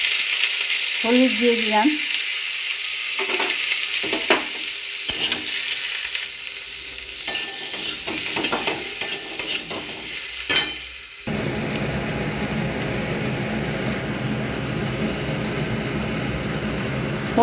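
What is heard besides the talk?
parboiled potatoes frying in oil, stirred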